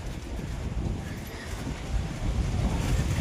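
Strong storm wind gusts outside a shop doorway, a steady loud rushing roar with rumbling buffeting on the microphone that swells toward the end, no voices heard.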